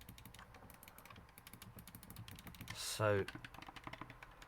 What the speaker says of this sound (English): So you've got normal Xbox button, so you hear the difference.